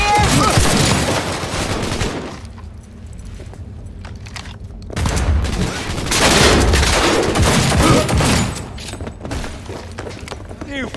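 Gunfire fills a Cyberpunk 2077 firefight. Loud bursts of shots and crashing impacts come in two dense waves with a quieter stretch between, and voices shout over the chaos.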